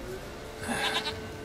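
A goat bleats in The Witcher 3, a brief, fairly close, wavering call in the middle of the clip, heard over a quiet game background with no speech.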